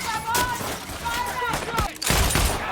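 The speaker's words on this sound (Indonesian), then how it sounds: "dia membawa Breeze untuk membantunya baku tembak" Gunfire from a shootout in a video game: rapid bursts of shots crack repeatedly with short pauses, heard beneath people talking over the game.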